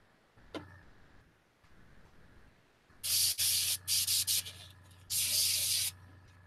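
MIG Paints medium rust paint hisses from a spray gun in several sharp, loud bursts of varying length over a low background hum, close by with no talking.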